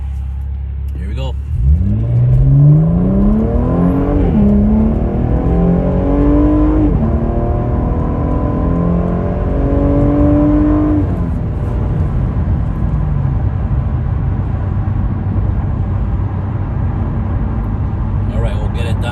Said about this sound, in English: we'll go ahead and do this 0 to 60 on a trifecta tune, run number 2